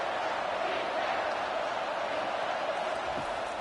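A large football stadium crowd roars in a steady, dense wash of cheering and noise at a Georgia versus Texas game, sustained throughout without a break.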